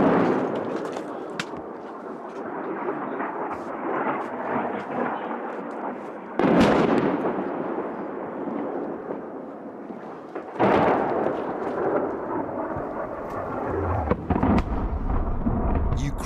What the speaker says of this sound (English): You can still hear the artillery battle going on.